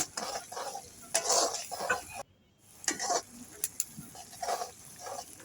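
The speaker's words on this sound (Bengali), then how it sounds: "এরপর মশলাটাকে খুব ভালো করে কষিয়ে নেব।" Spice masala for beef bhuna fries and is stirred in a pot over a clay stove, with scraping stirs, gentle sizzling and scattered clinks of utensil on metal, heard up close without talk.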